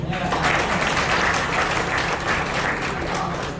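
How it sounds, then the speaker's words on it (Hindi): An audience at the inauguration ceremony of a music festival in Mandleshwar claps for a young tabla player, producing dense, steady applause that stays loud and full throughout. "एक बार इसके लिए ताली बजाएं"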